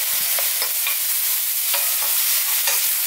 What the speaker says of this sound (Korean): 바로 간장과 올리고당이 들어가면서 불을 끄고 남은 열로 이렇게 볶아줘도 돼요